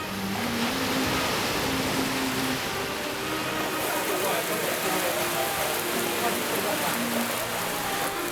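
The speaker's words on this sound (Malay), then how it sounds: "Meskipun dalam hujan lebat" Heavy rain falls in a dense, steady hiss on Pulau Mersing island off Johor, with a low faint hum running underneath throughout. No one speaks.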